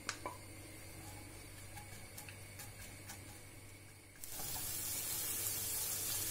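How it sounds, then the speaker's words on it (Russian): Onion and carrot frying together in vegetable oil in a pan give a faint sizzle with a few scattered ticks and pops. The hiss grows steadily brighter and louder toward the end. Nobody speaks. "Морковь вместе с луком будем слегка обжаривать."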